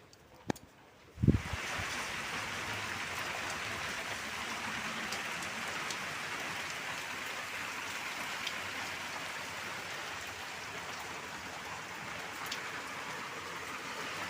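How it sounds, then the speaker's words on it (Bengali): Heavy rain pours down outdoors during a storm. A sudden thump opens a dense, steady hiss of downpour that continues unbroken and fairly loud. "বাইরে কত বৃষ্টি হচ্ছে"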